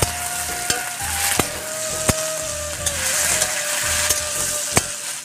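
Cabbage frying in a pan, a steady sizzle with sharp clicks of a utensil stirring and scraping at irregular intervals, close and fairly loud, no talking.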